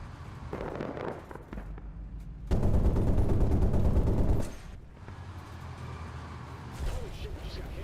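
Video game gunfire pops in bursts of crackling shots, loudest in a dense two-second volley, with someone talking over parts of it.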